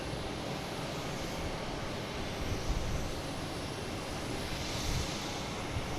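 An American Airlines Embraer E-175 jet at Boston Logan makes a constant, fairly distant engine rumble and hiss, with small swells in level and nobody talking over it.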